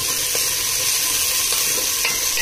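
Chopped onions hit hot spiced oil for a Telugu egg burji, giving a steady, even sizzle with faint stirring clicks and no voices.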